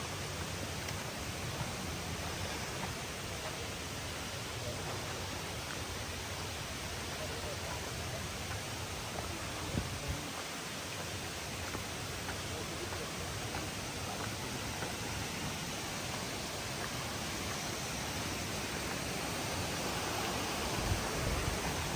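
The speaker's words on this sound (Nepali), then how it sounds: "यो पानी पनि खोला पनि बढेछ नि त यो अस्तिभन्दा ठुलो भएको" A rain-swollen forest stream, running higher than usual, rushes steadily through a green Korean woodland near a cave, producing a dense, continuous wash of water noise that stays close and loud for the whole stretch.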